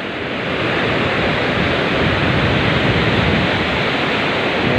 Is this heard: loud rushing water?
yes